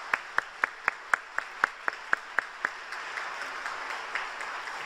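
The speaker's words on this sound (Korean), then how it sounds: "삼위일체 하나님께 모든 감사와 영광의 박수를 올려드립니다" Rhythmic unison clapping from a church congregation at a year-end Sunday evening service, about a dozen sharp evenly spaced claps that stop and leave a quiet, murmuring room.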